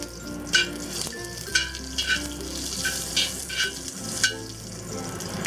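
Garlic frying in oil in a heavy cast iron pan, a steady close sizzle with several short bursts of stirring and scraping over it, no talking.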